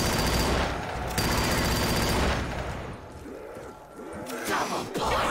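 Rapid gunfire bursts in a Black Ops III custom zombies match on a Minecraft Cottage map, loud and dense for the first seconds, then scattered shots and impacts mixed with game effects as the fire thins out.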